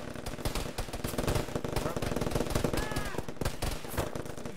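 Rapid automatic gunfire and scattered shots ring out in a military video game battle, dense bursts close and at a distance in overlapping volleys, with some voices faintly underneath.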